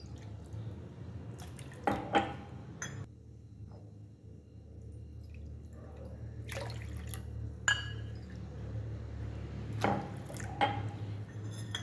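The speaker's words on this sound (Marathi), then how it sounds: "4 वाट्या पाणी घालून घ्यायचं." Water poured from a bowl into a large pot of broken-wheat porridge made with jaggery, heard as a few short splashy pours and drips over a low steady background hum, with no voices.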